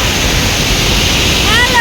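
Water rushes steadily over a waterfall at a dam, a dense continuous roar holding close and loud throughout, with a faint tonal chirp rising near the end.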